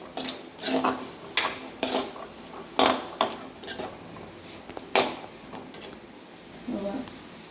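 Boiled chickpeas for sundal being sautéed in a pan, with a spoon repeatedly scraping and clinking against the metal in irregular bursts, close and moderately loud over faint background noise.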